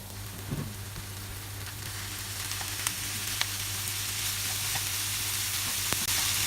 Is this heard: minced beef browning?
yes